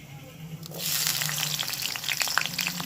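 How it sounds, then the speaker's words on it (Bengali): Potatoes dropped into hot catla fish oil burst into a loud, continuous sizzle and crackle that swells after a brief quieter start and holds steady close by. "তেলটা গরম হয়ে গেছে এবার আমি দিয়ে দিচ্ছি আলুটা প্রথমে"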